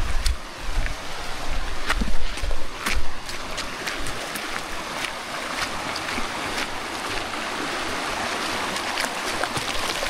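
River water rushes and splashes steadily under a bridge while people bathe in it, a continuous close wash with scattered sharper splashes, louder near the start and evening out afterward.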